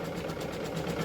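An embroidery machine stitches out a table runner design with a fast, steady mechanical whir and rhythmic needle chatter, close and unbroken, no one speaking.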